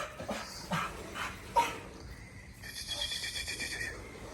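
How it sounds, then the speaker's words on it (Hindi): A dog barks, yips and whimpers in short uneven bursts at close range, holding another animal at bay, with some background noise in between. "आगे से भौंक कर इसको अपने करीब ही नहीं आने दे रहा"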